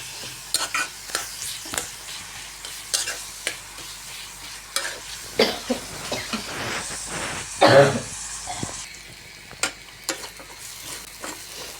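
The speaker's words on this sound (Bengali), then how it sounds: "আর এখানে আমি পেঁয়াজটা ভালো করে লাল লাল করে ভেজে নেব।" Onions fry in a pan until browned, with frequent close spatula clatters and scrapes over a steady sizzle, one louder burst midway and a brief throat-clearing sound.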